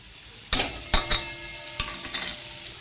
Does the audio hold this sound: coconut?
yes